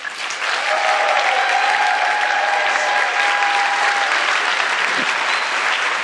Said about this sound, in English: Please clap right now.